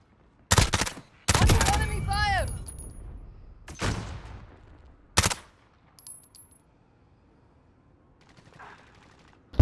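Sharp, loud gunshots in the shooter Call of Duty: Modern Warfare ring out in a few separate bursts, with a ringing echo tail and a short radio voice in between, then quieter scattered noises.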